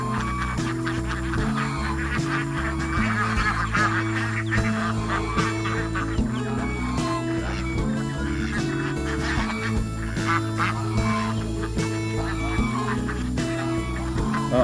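Geese honk loudly and repeatedly in a dense, overlapping chorus, mixed with duck quacks close by, continuing without pause; a voice is faintly present underneath.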